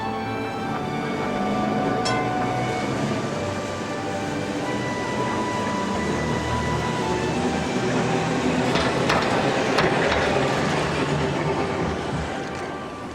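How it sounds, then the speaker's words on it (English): An old Blackpool open-balcony tramcar, number 40, rolls along with a continuous rumbling roar, a few metallic clacks and squeals rising midway, loud and close throughout with no talking. "Number 40 was the last open balcony tramcar to run in public service in Britain."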